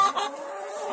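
Chickens cluck in a short, close burst, a quick throaty call that fades into softer clucking.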